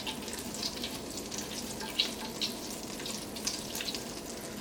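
Butter melts in a hot pan for tomato soup, giving a soft, continuous sizzle with faint crackles and pops scattered throughout, fairly quiet and with no talking.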